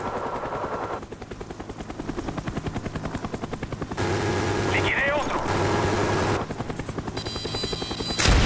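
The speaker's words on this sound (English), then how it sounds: "Enemy spy plane incoming." A video game enemy spy plane drones overhead amid loud rotor-like engine noise and rapid bursts of gunfire, constant and close throughout, with brief voices.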